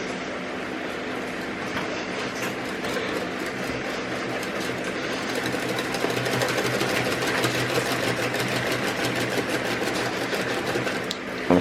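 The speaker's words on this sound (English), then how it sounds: "So I'm going to give it a good whisk." Yorkshire pudding batter being whisked in a bowl, a fast steady rattling clatter that grows slightly louder and denser partway through, continuing without pause.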